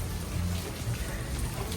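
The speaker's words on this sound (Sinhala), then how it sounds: "පේනවනේ තාම වහිනවා." Steady rain falls outside a lakeside resort hotel room, a soft continuous hiss with a low rumble and no single drops standing out, fairly quiet throughout.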